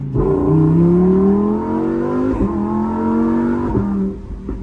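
A Lamborghini engine revs loudly and close, a rising roar with climbing pitch that dips and surges again, echoing off a nearby low wall.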